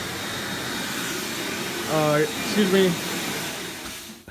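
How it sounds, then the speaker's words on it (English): A vacuum cleaner whirring steadily in another room of a house, a constant airy drone under a brief spoken apology from a nearby voice. "My wife turned on the vacuum over there."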